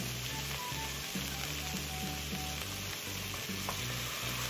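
Soy sauce bubbles and sizzles in a hot pot with a loud, crackling fry close by, punctuated by regular low thumps and clanks.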